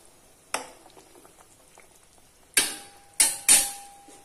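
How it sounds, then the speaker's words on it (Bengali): Fish roe fritters are dropped one by one into a simmering mango curry, making four wet plops: one alone, then three close together after a quiet simmering stretch. "এবার এর মধ্যে আমি মাছের ডিমের বড়াগুলো ছেড়ে দিচ্ছি।"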